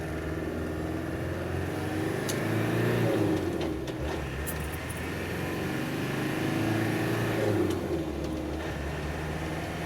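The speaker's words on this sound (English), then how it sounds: "All right, let's test out the acceleration." A 1997 Land Rover Defender 90 engine rises and falls through steady acceleration, a continuous mid-distance drone swelling twice, with faint birdsong above it.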